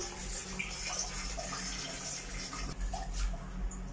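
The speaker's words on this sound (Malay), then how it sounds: "air dah penuh" Water steadily filling a sit-down toilet cistern through its float valve, a continuous close hiss and trickle with no talk.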